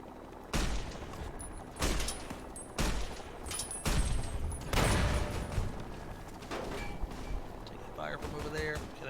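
Gunfire in Fallout New Vegas: several sharp, loud shots spaced a second or so apart, followed by quieter combat noise and a voice talking.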